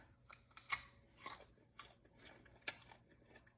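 Someone biting into and chewing a crunchy, early-picked peach, sharp crisp crunches spaced out over a few seconds, quiet and close, with no talk over them.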